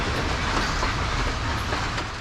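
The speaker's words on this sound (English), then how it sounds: "the night mail continues to trundle on, swaying from side to side as it travels along the tracks." Sri Lankan night mail train trundling along the tracks, swaying from side to side, with a constant rumble and rattle of carriages and faint clickety-clack heard from on board, no voices.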